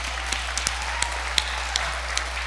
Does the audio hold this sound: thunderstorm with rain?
no